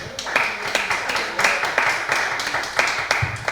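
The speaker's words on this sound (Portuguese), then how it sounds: "Uma salva de palmas para Jesus" A church congregation applauds together, a loud, rhythmic clapping that keeps a steady beat from start to finish.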